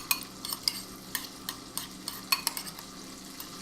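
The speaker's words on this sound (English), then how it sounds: "just gonna stir it up." A spoon stirring a coating mixture in a pan, with a faint sizzle, in a home kitchen: soft, irregular scraping clinks at close range over a steady low hiss, with no talking.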